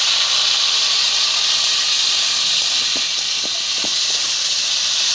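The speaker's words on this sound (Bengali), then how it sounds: "আমি অল্প জালে মাছগুলোকে ভালো করে ভেজে নেব।" Fish frying in salted oil over a village cooking fire, a loud steady hiss and sizzle up close with a few faint clicks partway through and no talking.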